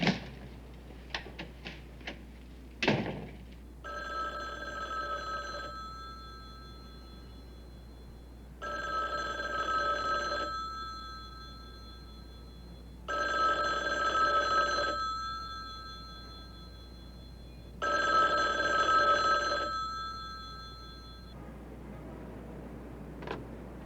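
A telephone rings unanswered, four long electronic ring bursts spaced evenly with pauses between, preceded by a few clicks and a sharp knock-like thud.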